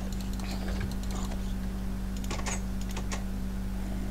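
Someone types on a buggy computer keyboard, giving irregular clusters of clicking keystrokes, close and fairly loud, over a steady low hum.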